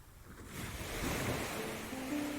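Ocean waves break and wash steadily onto a beach, a broad, continuous surf roar that swells after a quieter start, with some wind.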